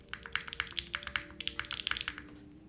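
Typing on a mechanical keyboard with the spacebar gaskets removed gives rapid, bubbly clacks with some hollow ringing, quiet and close, no talking.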